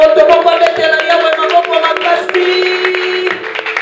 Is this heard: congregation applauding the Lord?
yes